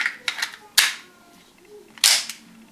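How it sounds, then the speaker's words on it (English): Ruger 22/45 Mark III pistol dry fired, two sharp metallic clicks of the hammer falling about a second apart, close and crisp, with smaller handling clicks around them. "You got to point it in a safe direction and just dry fire it"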